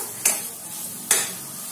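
Paneer bhurji being mixed in a pan, with two brief scraping strokes of a spoon against the metal over a soft background hiss, quiet and close.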